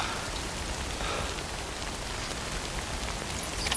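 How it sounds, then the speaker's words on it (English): Steady rain pattering on surfaces in the video game Death Stranding, a continuous even hiss of drops with no break, moderately loud and close, no voices. "then find shelter from the rain"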